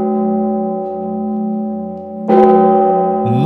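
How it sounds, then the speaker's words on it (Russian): Large bells of the Epiphany Cathedral in the Kostroma Kremlin ring with a deep, sustained humming tone, then a new strike adds a bright clang over the lingering resonance. "Так звучат только колокола Богоявленского собора Кремля."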